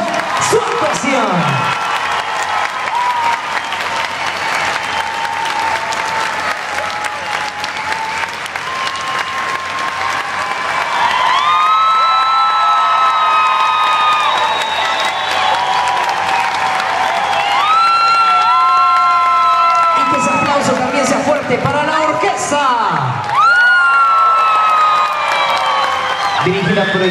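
An audience bursts into sustained applause and cheering after a performance by the Vázquez brothers, with loud clapping, whoops and whistle-like calls rolling on for nearly half a minute.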